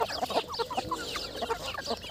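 A flock of around fifty pure desi hens clucks busily on a small poultry farm, a steady patter of short overlapping calls, near and fairly loud, with no people talking.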